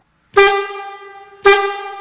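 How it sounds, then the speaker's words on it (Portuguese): Two loud, sustained blasts of a Volvo FH truck's air horn sound from the cab, each a rich harmonic tone; the first lasts about a second, the second is cut off at the end, with no talk. "Aqui você aciona a buzina a ar"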